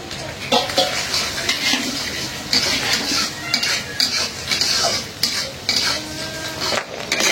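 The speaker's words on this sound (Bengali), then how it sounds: "ডিম ভাজা" Egg frying with a pinch of salt in a home kitchen pan, a steady close sizzle broken by repeated scraping and clinking of a utensil as it is stirred, with no talk over it.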